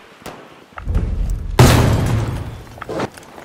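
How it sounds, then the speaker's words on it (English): Bomb explosion in Battlefield V during an urban clash, a heavy close boom with a rumbling, debris-filled tail that fades over a couple of seconds, following an earlier lower rumble and scattered distant cracks. "Bomb going out!"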